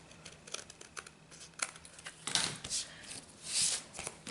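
Scissors trimming a small overhanging strip of paper on a handmade baby card, quiet close crisp snips and paper rustling, building to a few louder crinkly cuts.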